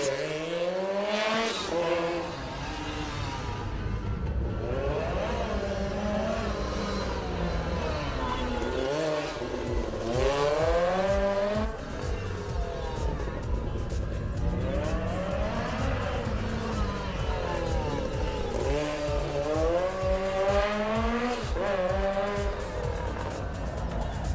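A Lancia Rally 037 rally car tears along a stage of the Rallye du Chablais at Champéry, its engine loud and rising and falling through repeated gear changes with tire noise, while a commentator talks over it.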